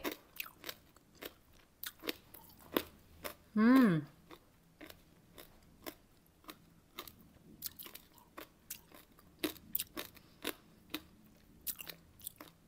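Home-grown grapes from a first garden harvest are chewed close up, giving a run of short, crisp crunching bites at a steady rhythm with brief pauses, and one voice briefly cuts in.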